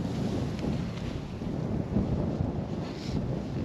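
Wind buffets the microphone steadily while bank fishing in cold early spring, producing a continuous low rumbling roar with no pauses and no talking.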